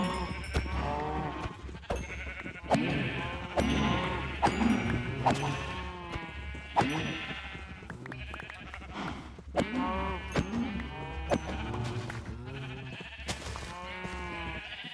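Sheep in a Minecraft-style survival game bleat repeatedly in short wavering calls, several overlapping, with a person talking intermittently beneath them.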